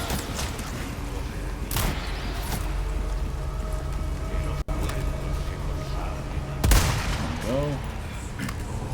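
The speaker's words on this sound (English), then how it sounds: "Stop shooting at me!" Enemy gunfire in Resident Evil 4 Remake, scattered shots and sharp bursts cracking through a dense, noisy game soundscape, with one abrupt loud hit near the middle and another heavy impact later.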